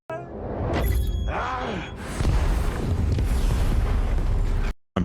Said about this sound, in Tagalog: Ang pagsabog ay nagpasabog ng mga pasilyo at bintana at ang usok ay bumalot sa lahat.